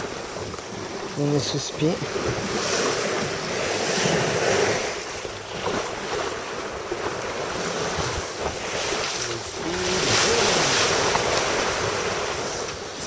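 Wind and surf at sea aboard a sailing boat under spinnaker in about 8 knots of breeze, a steady rushing wash with microphone buffeting, while someone speaks briefly.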